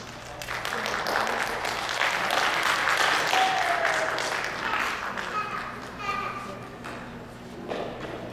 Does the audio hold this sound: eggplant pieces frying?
no